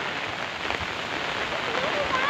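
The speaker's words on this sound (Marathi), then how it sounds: "मुसळधारात पाऊस आहे" Heavy monsoon rain falls steadily over rice fields in the Konkan, a continuous broad wash of patter close by, with a faint voice briefly audible beneath it.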